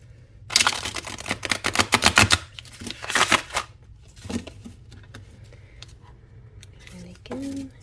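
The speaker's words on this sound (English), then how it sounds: "let's give it a good shuffle" Tarot cards riffled and shuffled at close range in bursts of rapid crisp flutters, followed by softer card handling with a steady low hum underneath.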